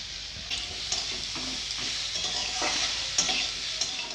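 Radish and potato with turmeric, chilli and coriander powder being stir-fried in a pan for a fish curry, a steady close sizzle broken by irregular scraping stirs of a spatula, with no talking.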